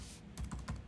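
Faint keystrokes on a computer keyboard while entering a command on a Windows machine, a few quick soft taps close by with no talk.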